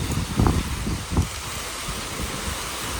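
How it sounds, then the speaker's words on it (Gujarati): Strong storm wind sweeps through a village and its trees after the rain stops, a steady, full rushing roar with a few heavier gusts near the start. "છાંટા બંધ થઈ ગયા પણ પવન ફૂલ આવે છે"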